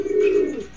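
A single racing pigeon gives a soft, low coo, close by, lasting under a second.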